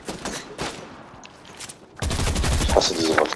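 Rapid bursts of weapon fire in a Fortnite Battle Royale solo match, a few scattered shots and then a sustained dense volley for the last second and a half, loud and close.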